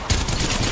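Rapid automatic fire from the Havoc rifle in a first-person shooter game, a dense continuous burst of shots at steady volume lasting under a second.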